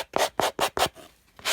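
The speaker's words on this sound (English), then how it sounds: "you can use a sanding block or an emery board or just a little piece of sandpaper and just kind of smooth" Sandpaper or an emery board rubs along the edges of a packing-paper journal in about five quick, close scraping strokes, then pauses before starting one more.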